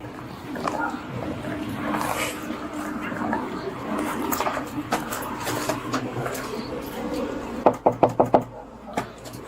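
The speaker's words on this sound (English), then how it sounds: "after knocking on the door, the officer steps back" A police officer knocks on the door of a home: a quick burst of about five sharp, close raps near the end, after a stretch of low background murmur and faint voices.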